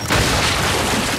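Frag grenade explosion in the video game Gears of War 5, a loud sustained boom with dense rumbling blast noise filling the whole moment, no talk over it.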